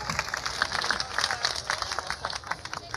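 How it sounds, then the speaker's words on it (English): Audience at a live comedy stage show applauding for Scott Edwards, a moderate spread of clapping heard at a slight distance, fairly quiet and even. "How about a big round of applause for Mr."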